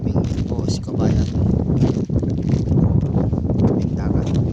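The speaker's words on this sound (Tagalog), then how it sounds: "Lakas ng hangin." Strong wind sweeps along the seashore in Jeddah, a steady, loud roar that buffets the microphone throughout, with people talking under it.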